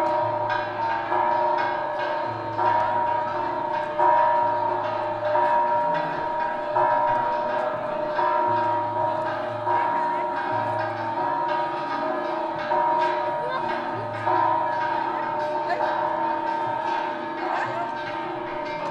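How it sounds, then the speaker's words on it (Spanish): Church bells rung from a tower during a procession for the Virgin of the Assumption in Tlaxiaco peal in steady, repeated strikes at a distance, heard over a continuous outdoor crowd murmur. "El resto de la población va ahí adelante, está repicando las campanas allá"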